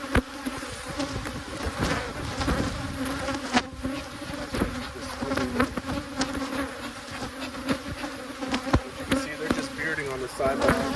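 Honey bees swarming around an abandoned hive during an inspection, a dense, continuous buzzing of many insects close by, punctuated by light knocks and taps, with occasional faint voices.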